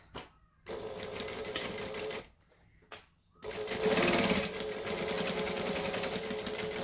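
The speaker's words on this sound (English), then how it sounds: "And then I can just sew the final piece on with the correct seam allowance." A sewing machine runs in bursts, stitching the final piece onto a Hitchhiker quilt top at a set seam allowance: two steady runs separated by short pauses, then a longer, louder continuous run, close and with no talking.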